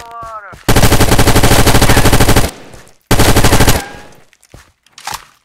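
Full-auto gunfire in a Middle-earth video game plays as two loud, dense bursts of rapid shots, each lasting a couple of seconds, with a brief gap between them.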